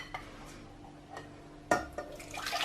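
Chocolate custard mixture is poured back into a cleaned saucepan, with a soft splash, a few light knocks and then a building liquid pour near the end, fairly quiet.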